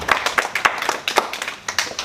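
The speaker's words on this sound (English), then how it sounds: "Give her a round of applause." Applause from an audience at an annual farmers conference, a short burst of scattered, uneven hand claps of moderate loudness, heard from a few people rather than a large crowd.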